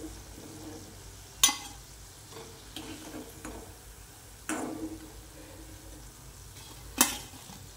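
Bhaji fritters fry in hot oil with a low, steady sizzle, broken by a few sharp clinks and scrapes of a utensil against the pan as they are stirred and lifted out.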